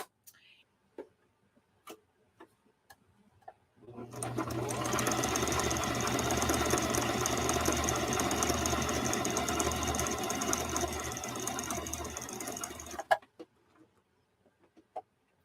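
A sewing machine runs a tension test seam in one sustained burst of rapid mechanical stitching lasting about nine seconds, preceded and followed by quiet handling clicks.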